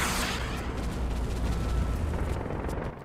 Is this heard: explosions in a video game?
yes